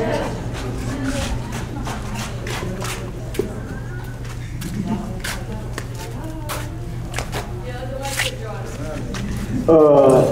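Raffle tickets being stirred by hand in a pot for a prize draw at a town meeting: steady papery rustling and scraping goes on throughout, with a brief louder swish near the end.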